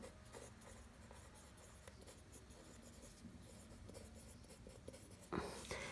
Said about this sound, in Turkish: Şimdi buraya zamanını yazıyorum.